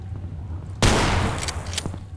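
Gunfire in the horror game Afraid of Monsters, one sudden loud blast followed by a decaying burst of noise and a couple of fainter hits.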